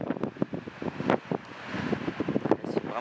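Wind gusts by the sea near old Byzantine city walls, a rough, buffeting roar against the microphone that swells and fades over a few seconds, with faint surf underneath.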